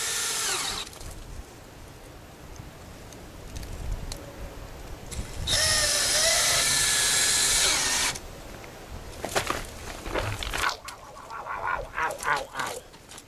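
A handheld power drill drives screws in short whining bursts, with one long sustained high run in the middle and several brief stuttering pulls near the end, over quiet background noise.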